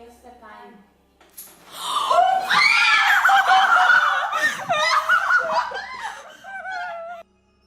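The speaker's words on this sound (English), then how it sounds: "The girls scream and run to another room." Several girls scream loudly and burst into shrieking, giggly laughter after a chandelier shakes over a table during a Ouija board session, the cries rising and falling for several seconds before cutting off.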